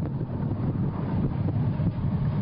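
Wind gusts buffet the microphone along the Ironman Hawaii race course as a continuous low rumbling roar, steady and fairly loud throughout, with no voices.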